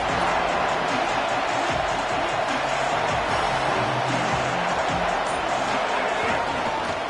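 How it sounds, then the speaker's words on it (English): A steady, loud roar of a stadium crowd in a football video game, cheering continuously beneath a commentator's talk. "This crowd ready to make its presence known"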